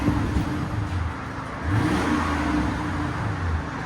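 A stock 1996 Lexus LS 400 with its 4.0L V8 runs with a quiet exhaust, giving a low, soft engine hum with a gentle rise in revs midway, steady and subdued, with no voices.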